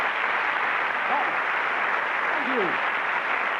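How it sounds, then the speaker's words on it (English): An audience at a magic show claps in steady, close applause, while someone briefly speaks over it. "Round of applause for these 2 wonderful sports"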